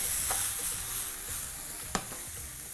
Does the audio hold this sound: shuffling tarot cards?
no